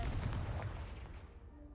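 Confringo blasting spell from the Hogwarts Legacy video game bursts against a piled-up blockage as a quiet, low rumbling explosion that fades over under two seconds.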